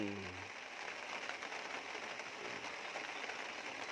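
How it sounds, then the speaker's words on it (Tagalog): Light drizzling rain falls outdoors on an island fishing trip, a soft, even patter that is continuous and fairly quiet, with a brief low hum at the very start. "Sarap na mamiwas pag ganitong tikatik ang ulan."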